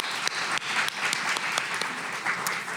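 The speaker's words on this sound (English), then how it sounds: "Let's give them a round of applause." Audience applause at a Pasadena community women's financial resilience event, steady dense clapping from a crowd filling the room, moderately loud and continuous with no pauses.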